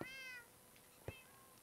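A cat meows in the Minecraft video game: a clear, moderately loud harmonic meow at the start, then a second shorter cry about a second later, with quiet game ambience between.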